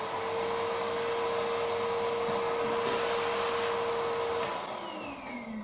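A Karcher T7/1 commercial canister vacuum cleaner runs steadily with a droning hum and a sharp whine, then winds down as the motor switches off near the end.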